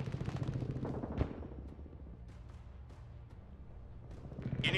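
Gunfire and explosive blasts pound an enemy position in the war strategy game Broken Arrow, with a sharp loud crack early on amid a continuous rumbling barrage and scattered distant shots, building louder at the end.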